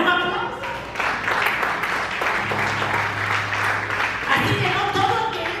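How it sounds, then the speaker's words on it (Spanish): Spanish-speaking church congregation applauding, a sustained wash of clapping with voices mixed in and a musical tone sounding underneath partway through. "Dale un aplauso"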